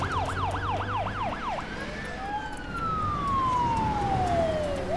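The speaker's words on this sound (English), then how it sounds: "Where's the ambulance rushing to?" An ambulance siren in the city-building game SimCity wails in a rapid warbling pattern, then shifts to a long descending tone, loud over steady traffic and city ambience.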